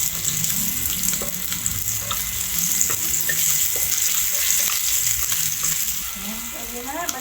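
Garlic and onion sizzle and fry in hot oil in a pan, a steady close crackle with occasional stirring clatter throughout.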